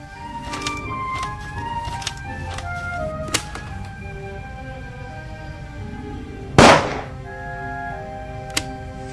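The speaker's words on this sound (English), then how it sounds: "A shot is audible on the tape, and the reel comes from the Baroness's cabin." A single sharp gunshot crack bursts out of a tape recording in the middle of a game scene, loud and sudden among softer clicks and tones.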